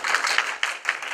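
A studio audience claps in response to a call for a vote in an improvised dance battle, a brief burst of dense, overlapping hand claps with a few louder accents, no voices over it.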